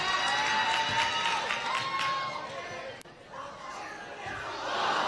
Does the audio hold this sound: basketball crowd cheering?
yes